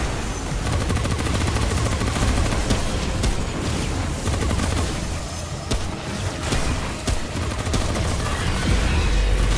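Sustained heavy gunfire and booming shots during a boss fight in Remnant: From the Ashes, loud and continuous throughout with dense rapid bursts and no talk.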